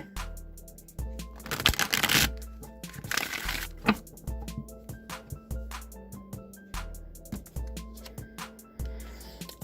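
Tarot cards are shuffled close up, with two longer riffling bursts and many small crisp card taps and clicks in between, soft and intimate, with no voices.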